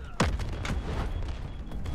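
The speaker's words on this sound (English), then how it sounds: "These explosions are menacing." Video-game gunfire and an explosion: a sharp blast with a falling sweep, then a scatter of fainter shots and booms in the background.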